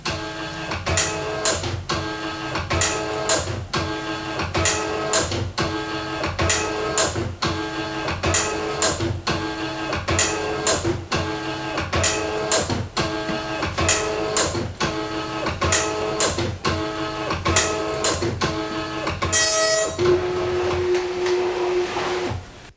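An Amstrad DMP 2000 dot matrix printer prints steadily, its print head rasping in rapid repeated passes with a regular rhythm, close and loud, ending with a brief paper-feed whir before stopping.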